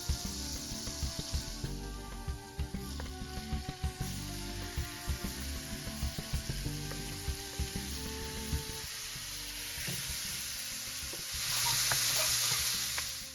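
Steady sizzle of butter and olive oil in a frying pan before shrimp are added, crackling continuously with occasional stirring clinks, growing a bit louder and hissier near the end.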